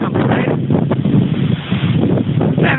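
Strong gusts from a UK storm buffet the microphone outdoors with loud, rumbling wind roar that surges and dips throughout, and no speech is heard.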